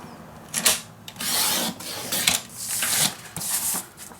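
Scrapbook paper from a Scrapqueen Designs collection is cut on a paper trimmer, giving several rasping slides of the blade across the sheets at close range with brief pauses between strokes.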